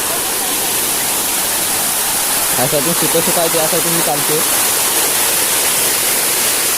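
Kavaladi waterfall near Kada Savari Datta temple in Ratnagiri, running low on water, makes a steady broadband rush of falling water throughout, with someone talking over it partway through.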